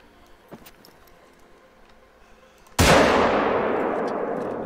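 A single loud rifle shot at a pronghorn in theHunter: Call of the Wild cracks out of near silence and rolls off in a long, fading echo.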